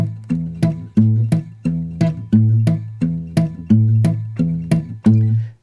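Guitar plucked with the bare flesh of the thumb, a rhythmic picking pattern of rounded, softer attacks repeating steadily for several seconds, close-miked with no speech.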